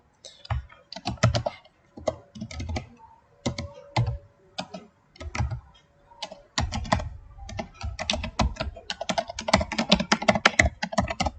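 Computer keyboard typing in bursts of rapid key clicks with short pauses, growing denser and continuous toward the end; close and clear with no talking.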